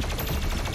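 Rapid gunfire in the video game Doom Eternal, a dense, continuous burst of shots with a steady rattling rhythm and heavy low thump.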